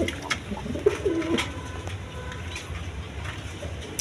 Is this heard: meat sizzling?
no